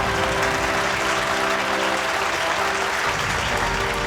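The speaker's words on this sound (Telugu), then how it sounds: "కానీ ఆడియన్స్ అందరూ చప్పట్లు కొడుతున్నారు." Sustained audience applause fills the whole stretch, a dense steady wash of clapping from a crowd watching a stage act, loud and continuous with no talk over it.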